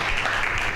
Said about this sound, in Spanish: Aplauso para la sopaipilla.